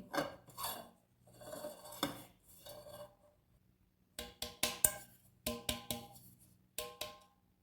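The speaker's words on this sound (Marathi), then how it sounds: "तेल लावल्यानंतर यामध्ये अशा पद्धतीने मैदा डस्ट करून घ्यायचा आहे" Flour is dusted into an oiled metal cake tin for an eggless semolina chocolate cake. Bursts of shaking and rustling give way to a series of crisp, close metallic taps and rattles against the tin.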